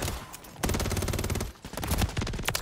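Rapid bursts of WSP Swarm submachine gun fire in the video game Modern Warfare 3, loud close rattling volleys with a brief pause midway before firing resumes, no talk.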